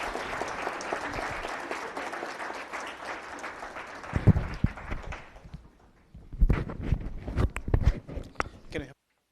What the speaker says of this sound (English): If we could give these guys a round of applause